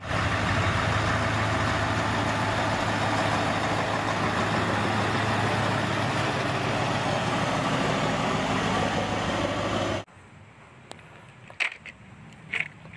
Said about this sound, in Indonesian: ini ada kepala truk trailer warna kuning